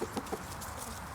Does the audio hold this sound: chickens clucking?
yes